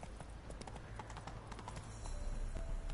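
Hooves of the horse Roach clatter in a steady galloping rhythm in The Witcher 3: Wild Hunt, close and continuous, growing slightly louder near the end.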